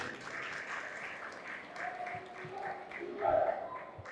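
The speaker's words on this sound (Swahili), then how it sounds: "Jipigieni makofi tena" An audience claps steadily at a formal university senate gathering, a dense moderate wash of applause that swells briefly near the end, with voices mixed in.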